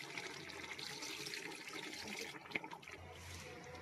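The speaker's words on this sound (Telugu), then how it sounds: "ఇప్పుడు 10 గ్లాసులు నీళ్ళు యాడ్ చేద్దాం" Water is poured steadily into a pot of chicken biryani, a continuous splashing fill that runs close and fairly quiet, tapering near the end, with no talk over it.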